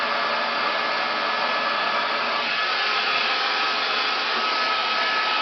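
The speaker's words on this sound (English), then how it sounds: "So you see how I have a smaller hair dryer" A small hair dryer blows with a steady, loud whoosh, running continuously and close by without pause.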